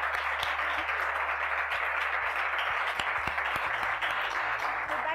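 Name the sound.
audience applause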